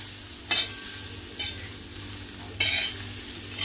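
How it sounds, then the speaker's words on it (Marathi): Kitchen king masala stirred into pan-fried cauliflower on a tawa, with a steady low sizzle and a few sharp scraping strokes of the spoon against the pan, close and alone. "चांगलं मिक्स करून घेते"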